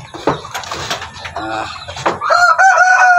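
A broody hen and chicks on a farm cluck close by, soft clucks and murmurs building into a louder, sustained hen call at the end.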